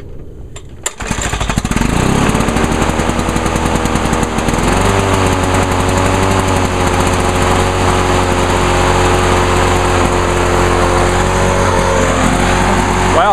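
A Lawn-Boy 8461 Commercial lawn mower's small two-stroke engine catches after a pull start on choke and settles into a loud, buzzing, steady high-revving drone close by.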